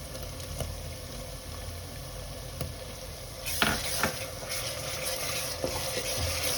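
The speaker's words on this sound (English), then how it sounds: "So we will fry it till the raw smell of mint leaves and coriander leaves goes away." Onions fry with a green chili, mint and coriander paste for a South Indian chicken biryani, making a steady close sizzle with occasional stirring clicks. The frying grows brighter and louder partway through.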